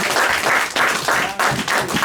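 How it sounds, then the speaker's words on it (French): A church congregation applauds loudly and steadily, close dense clapping that surges in several waves with brief dips between them. "Applaudissons pour Jésus."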